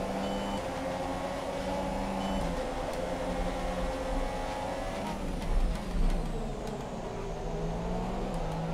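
Formula 1 race cars in the F1 2017 video game at the Malaysia Grand Prix give a continuous high engine whine with shifting pitch as gears change, and passing cars briefly swell the sound around the middle.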